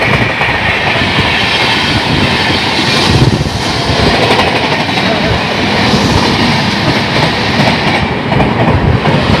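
The Howrah Jabalpur Shaktipunj Express passes close by in a loud, continuous roar, with rolling wheel clatter and rushing air sustained throughout.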